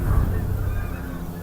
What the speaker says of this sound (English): Lots of geese coming over